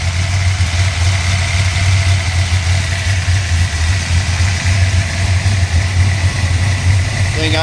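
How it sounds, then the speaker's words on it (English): A pump-gas 406 small-block with a Victor intake ported to match the heads and 9.2-to-1 compression idles steadily around 1300 rpm, a loud, even rumble held close throughout with no talk. "Thing idles nice at about 1300, maybe 1400."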